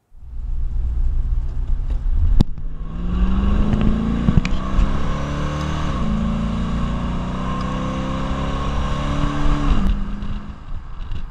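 A 1967 Ford Mustang GT convertible accelerates hard, its V8 climbing through gears with rising engine pitch and sharp shift breaks, loud and close without talk.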